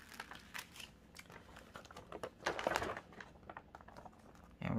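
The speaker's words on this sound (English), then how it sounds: "And we're just going to peel that back again." Transfer tape is peeled back from a canvas panel, giving a close, quiet crinkling and crackling with small ticks, rising to a louder rustle midway before fading.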